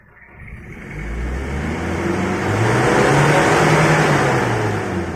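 A car engine with a tuned exhaust muffler revs steadily upward, its roar building over several seconds to a sustained high-rpm drone near the microphone, with no talking.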